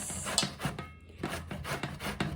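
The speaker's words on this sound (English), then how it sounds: "So let's grate it directly in this" Bottle gourd (lauki) is rubbed against a grater in quick repeated strokes, a close, rhythmic rasping scrape with a brief pause midway and no talking.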